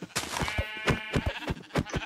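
Sheep in the Minecraft video game bleat several times in quick succession, clear and close, with no speech over them.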